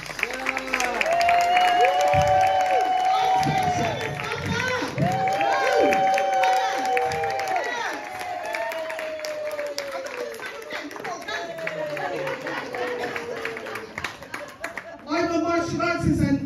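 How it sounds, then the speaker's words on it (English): An audience at a comedy hypnotist show on the Grand Pier at Weston applauds, a dense run of clapping and crowd chatter that holds, then fades slightly, with voices talking over it. "Give him a round of applause."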